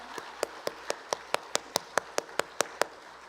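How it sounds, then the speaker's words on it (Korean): A church congregation at a Wednesday prayer service claps in unison, about a dozen crisp, evenly spaced beats at a brisk, steady tempo over quiet room tone. "우리 하나님께 영광의 박수 한번 올려드리기 원합니다."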